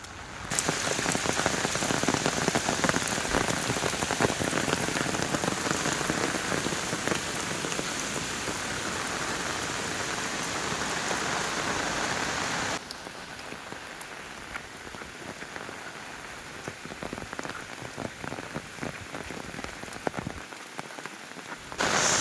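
Heavy rain hammers down steadily in the Konkan region, loud and dense at first, then continuing at a somewhat lighter, patchier level with scattered drops.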